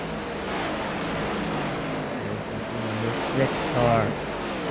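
A race car in iRacing at Pocono roars steadily under broadband road and wind noise, with a few brief rising engine notes near the end, while a commentator talks over it.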